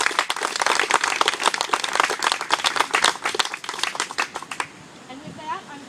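Close, loud applause fills a room at a local political endorsement event with Albany's mayor and elected officials, with many hands clapping rapidly for several seconds before the sound thins out and stops, leaving quiet room tone.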